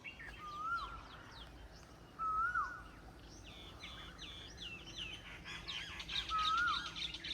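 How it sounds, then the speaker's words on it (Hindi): An Asian koel calls with rising, whistled notes, repeated three times over a steady outdoor village background of chirps and rustling. "कोयल की आवाज़ सुने ज़रा।"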